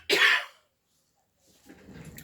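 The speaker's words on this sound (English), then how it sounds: "I'm going to say excuse me because I'm going to cough." A single short, harsh cough bursts out close and loud, followed by silence and then faint rustling and a soft breath.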